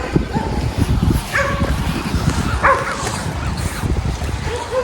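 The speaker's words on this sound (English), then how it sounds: "Them dogs can keep barking." Dogs bark repeatedly from some distance outdoors during heavy rain on wet grass, sharp barks and yips recurring over a steady wash of rain and running water.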